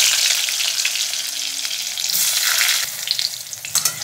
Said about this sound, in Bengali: কড়াইয়ে তেল দিয়েছি, পটলগুলো ভেজে নেব।